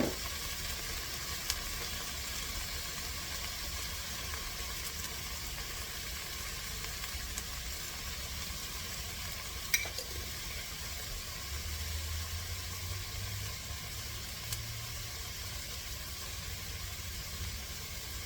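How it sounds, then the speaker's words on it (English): Onions sauté in a very hot pressure cooker, a steady soft sizzle and hiss running continuously with a few faint clinks of stirring, heard alone without talk. "you're sauteing these onions, they'll get translucent."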